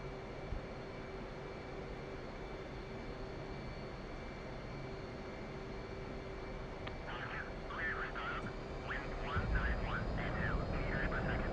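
An F/A-18C jet in the DCS World flight simulator throttles up and rolls for takeoff: a steady, loud engine roar and whine holds throughout, then swells and thickens near the end, with a faint radio-like chatter in the background.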